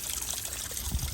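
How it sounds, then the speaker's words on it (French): A small waterfall at Cascade Blanche in Salazie, Réunion, trickles and splashes over stones in a steady, close, continuous rush of water. "Et un début de cascade."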